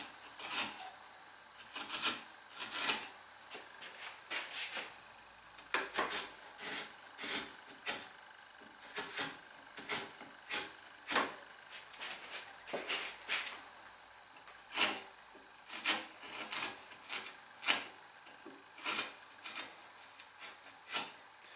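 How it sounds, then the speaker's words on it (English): Chisel held in both hands paring bevels on the end of a wooden batten, giving a series of short, crisp shaving and scraping strokes at an irregular rhythm, close and fairly quiet with no talk. "using the chisel, holding it in both hands, just pare away bevels on the end of the batten"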